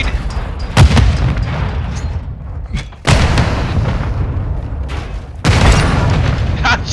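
Loud booming grenade blasts in a search-and-destroy round of a first-person shooter game, three heavy explosions spaced a couple of seconds apart, each with a long rumbling tail.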